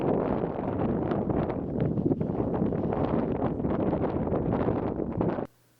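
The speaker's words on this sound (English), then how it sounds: "protected from some of the brutal Nebraska wind" Strong wind over Nebraska farm fields: loud, continuous gusty roar buffeting the microphone up close, then cutting off abruptly near the end.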